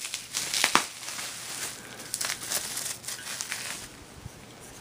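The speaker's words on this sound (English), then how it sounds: "I'm gonna unwrap it in front of you here" A packaged beer bottle being unwrapped up close, with irregular crinkling and crumpling of wrapping material in short bursts, a sharp rustle near the start and softer tearing and rustling that follows.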